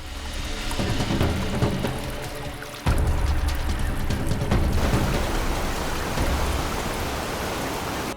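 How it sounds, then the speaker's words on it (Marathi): Sautada's main waterfall, Rameshwar falls, plunging into the large pool below in a forested rocky gorge, heard as a loud, steady, close roar of falling water that continues without a break. "जे इथं पाणी पडतं मेन धबधब्याचं रामेश्वर धबधबा"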